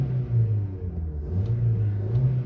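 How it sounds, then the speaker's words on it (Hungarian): Ford Focus 1.4 petrol engine running at a steady, smooth idle with light fluctuating revs, a low continuous hum heard up close with no talk. "Tökéletesen pörög nekünk ez a motor."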